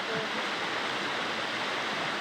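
River water rushes steadily in a continuous broadband flow, like a nearby stream in Agusan del Sur, Philippines, with no breaks or voices.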